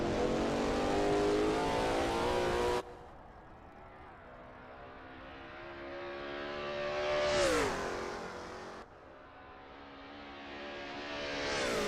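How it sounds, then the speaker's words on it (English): A Lola T70 MkII Spyder race car at Bridgehampton roars along, its engine climbing through gears in loud rising tones, with a brief drop, then a sharp pass and renewed acceleration, with no talking. "David Zahn is expertly commanding that car through East Straight."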